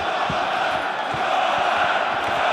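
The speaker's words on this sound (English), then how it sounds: "you hear the crowd now urging on their living legend, Fedor Emelianenko" An arena crowd at an MMA fight roars steadily, urging on Fedor Emelianenko against Jeff Monson, a dense continuous din with faint shouts rising out of it.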